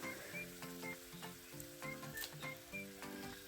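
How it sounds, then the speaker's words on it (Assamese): Spice paste frying in a pan for an Assamese fish curry, with a steady sizzle and soft crackling broken by light periodic stirring scrapes. "দি লৈ পেলাই অলপ ভালকৈ ভাজি ল'ম"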